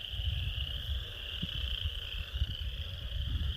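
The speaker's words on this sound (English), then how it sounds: "the frogs get louder back here" Frogs croak in a marsh at a nature center in Defiance, Ohio, a dense steady chorus trilling without pause, with low rumbling wind or handling noise underneath.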